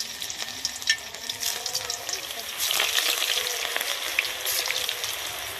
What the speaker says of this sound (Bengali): তেল গরম হয়ে গেছে, এবার আমি এক এক করে এগুলো তেলের মধ্যে ছেড়ে দেবো